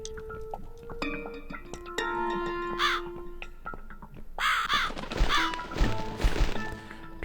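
A crow caws repeatedly in the horror adventure game The Cat Lady, harsh clustered calls standing out over sparse eerie game sounds and tones.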